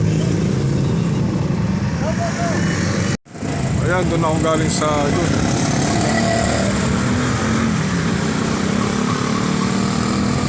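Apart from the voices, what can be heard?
small vehicles driving on Mindanao Avenue extension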